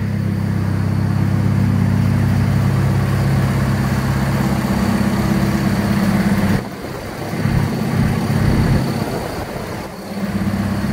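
A B16-swapped 1989 Honda Civic engine on a dyno holds a loud, sustained high rev. Partway through it drops off briefly and then climbs again.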